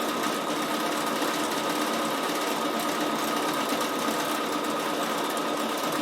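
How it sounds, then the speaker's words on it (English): A sewing machine stitches a decorative design in many directions, a fast, even whir that runs steady and fairly loud throughout with no talk. "This design is sewing in 16 different directions."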